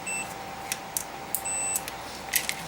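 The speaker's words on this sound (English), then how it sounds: "Now it should, I believe it should beep." A faint electronic beep from a meter sounds twice amid a few small clicks and handling noises in a quiet room, while testing a ZAPCO Reference AG 750.2 car amplifier.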